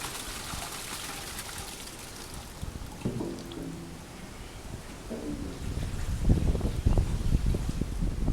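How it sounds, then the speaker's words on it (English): Water from a hose pours and splashes inside a crusty old Volvo 1800 gas tank, a steady hollow rush that swells louder toward the end. "let's see about cleaning this out with a hose"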